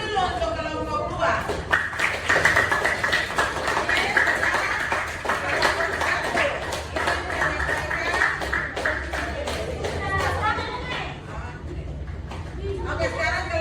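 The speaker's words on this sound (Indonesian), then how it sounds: "tepuk tangan dulu untuk kelompok 2" Classroom applause for a student group, a steady wash of clapping from many hands mixed with children's chatter and voices, fairly loud and continuous throughout.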